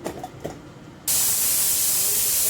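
A few soft knocks, then a sudden loud burst of steam hissing from a pressure cooker cooking matar pulao that keeps rushing steadily to the end.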